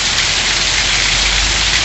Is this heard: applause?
no